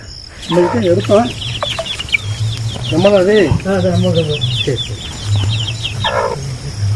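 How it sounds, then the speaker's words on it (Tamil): Native country chickens in a rural village cluck and squawk nearby in repeated short calls, with a low droning hum underneath throughout. "இதுதான் நாட்டுக்கோழி, ஒரிஜினல் நாட்டுக்கோழி, நத்தத்துக்கோழி"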